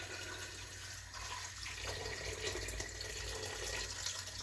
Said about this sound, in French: Maintenant, je passe à mettre l'eau. Une bonne quantité d'eau.